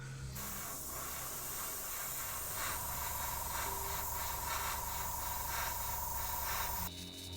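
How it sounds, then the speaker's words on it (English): An airbrush sprays unthinned chrome marker paint in a steady, close hiss that runs almost unbroken, with faint rhythmic pulsing, then cuts off at the end. "So it does seem to go through the airbrush fine"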